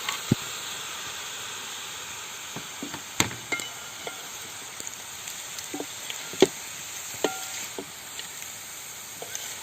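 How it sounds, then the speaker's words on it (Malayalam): Crab pieces hit hot gravy in a pan for a Kerala crab roast, giving a steady soft sizzle and hiss with scattered clinks and stirring knocks, close and moderate in level, with no talking. "ഇനി നമുക്ക് നമ്മുടെ ഞണ്ട് മോനെ ചേർക്കാം"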